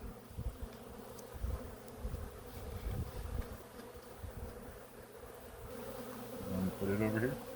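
Honey bees buzz steadily around an opened backyard hive during a beekeeping inspection, a close, constant drone with a few brief louder passes and faint voices nearby.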